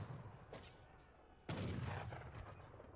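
Artillery and cannon fire in a four-team free-for-all Age of Empires III battle, a few booming blasts, one strong detonation midway, with rumbling battle noise continuing underneath and no voices.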